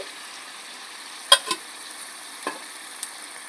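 Kochu shak cooked with ilish fish head, stirred in a pan with slit green chillies, a quiet faint sizzle broken by a few brief spoon scrapes and clicks.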